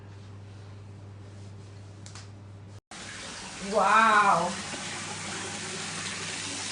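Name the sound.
strong water flowing from a tap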